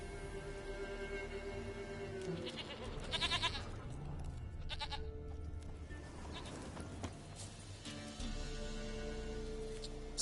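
Goat bleating in The Witcher 3: Wild Hunt, several short bleats near the start and middle over game ambience and faint hoof clip-clops, with music-like tones underneath.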